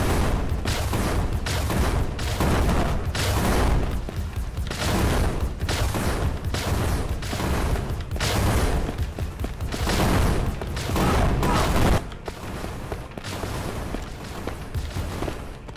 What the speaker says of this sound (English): There's a lot, an awful lot of explosions over here.